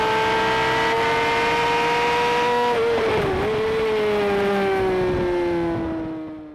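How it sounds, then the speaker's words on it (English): A Triumph sportbike's racing engine screams at high revs on a race track, pitch rising steadily, dips briefly at a gear change, then fades as it pulls away. Loud and close, no voices. "It's a pretty sweet sounding bike, not many of those out there"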